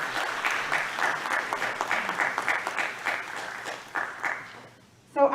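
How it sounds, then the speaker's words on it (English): Audience applause at a senior signing day event, a steady wash of clapping from a crowd that fades away near the end before a brief sharp noise. "another round of applause for Myra"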